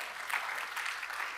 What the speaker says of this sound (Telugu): అర్థమైతే చప్పట్లు కొట్టాలి.